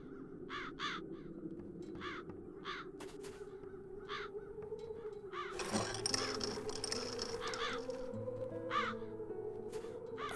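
Crows cawing in The Dark Eye: Chains of Satinav, a string of repeated harsh caws spaced through the scene over a low ambient hum, joined midway by a brief burst of clattering mechanical noise.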